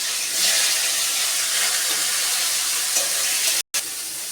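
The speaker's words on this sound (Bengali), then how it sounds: "এবার আমি আলু আর ফুলকপিটা ভেজে নেব।" Potato and cauliflower pieces frying in oil in a wok, a soft, even hissing sizzle with a short gap near the end and no voices.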